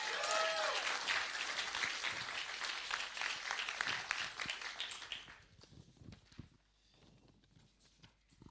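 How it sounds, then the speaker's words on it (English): A filmmaking event audience claps loudly and steadily for about five seconds, then the applause fades into scattered claps and shuffling. "Make a round of applause."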